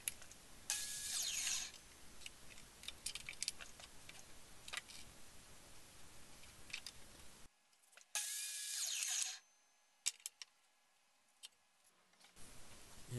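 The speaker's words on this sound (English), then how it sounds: "So here I'm cutting all four pieces at exactly 45 degrees to make a perfect miter." A saw cutting four wooden pieces for a whiskey gift box at 45-degree miters, heard as repeated broadband cutting bursts with quieter gaps and sharp clicks between cuts, no talking.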